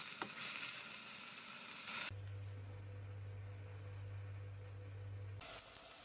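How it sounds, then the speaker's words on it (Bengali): Spinach and prawns cooking in a pan give a quiet, steady sizzle, with stirring scrapes at the start and a low hum running through the middle; no voices. "এখন শাকগুলো নেড়েচেড়ে রান্না করে নিব জাস্ট পাঁচ মিনিট"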